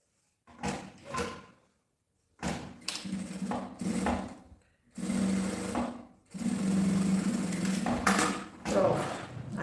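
A sewing machine runs in several close bursts, stitching a fabric pouch made from a milk carton, with short pauses between runs.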